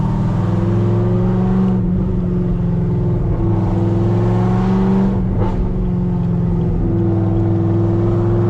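Camaro ZL1 and SRT Trackhawk accelerating hard on a highway, loud sustained engine roar heard from inside with rising pitch through repeated gear changes and brief dips between shifts, no talking.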